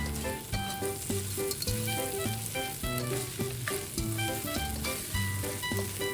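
Pieces of beef brisket sizzle loudly in a hot wok as they are stir-fried, steady frying hiss broken by repeated scraping and tossing strokes of the spatula, with no talking.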